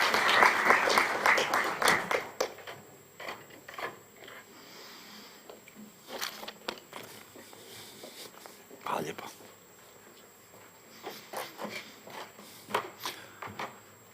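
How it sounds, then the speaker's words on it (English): At a sports tourism congress in a hall, the audience gives a short burst of applause after a speech that dies away within two seconds, followed by a speaker talking into a microphone. "once again, a huge round of applause"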